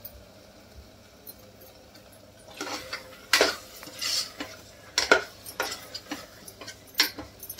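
A mixture with toor beans being stirred in a cooking pot, with a spoon scraping and knocking against the metal in irregular bursts after a quiet start, close and alone.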